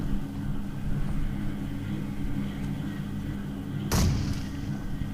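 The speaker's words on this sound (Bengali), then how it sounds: "আর একটা গ্রেনেড করি। তো দেখো এই গ্রেনেডটা নক হয় কিনা।" A grenade explodes in a mobile battle-royale shooter game: one sharp burst near the end that rises suddenly over a steady low rumble of game ambience, with no talking.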